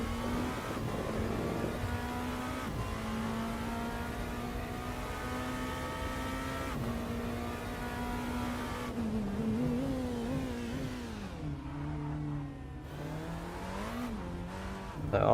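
Porsche 963 LMDh hypercar engine in the Rennsport racing game, sustained loud drone with a rising and falling pitch as it accelerates and lifts through a turn, with no voice over it.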